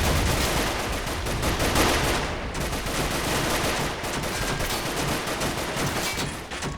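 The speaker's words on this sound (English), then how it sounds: "Lay down some covering fire." Dense covering fire in an Arma modern mod roars without pause, many rifles and machine guns rattling at once at steady high volume from start to finish, with no voices.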